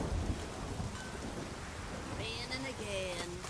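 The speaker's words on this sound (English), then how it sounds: "Raining again." Steady rain and rolling thunder in The Witcher 3, a soft continuous wash of rainfall with low rumbles, followed by faint tonal game sounds in the background.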